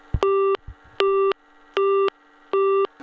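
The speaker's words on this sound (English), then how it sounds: "it needs to send back busy tone" Busy tone from a Strowger step-by-step telephone exchange repeats in four even, loud, clean beeps separated by short silences, opening with a faint mechanical click.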